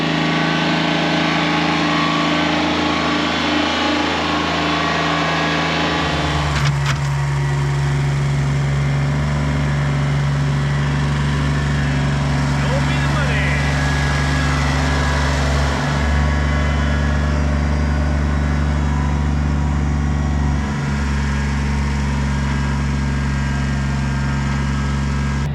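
A Kubota BX compact tractor engine runs steadily and loudly while moving a heavy log of about 1400 lb, with a sustained low drone and a shift in load partway through.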